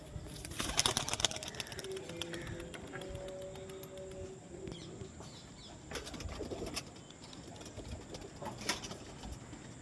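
Pigeons coo softly in a low, steady pattern, with brief bursts of wing flapping and rustling nearby, faint and without talk.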